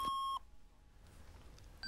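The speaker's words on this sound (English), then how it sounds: "The QL provides the modestly named beep command, which provides a single channel of sound." A Sinclair QL home computer sounds its beep command, a single-channel electronic tone: one clear steady beep lasting a fraction of a second, then quiet with a short faint blip at the end.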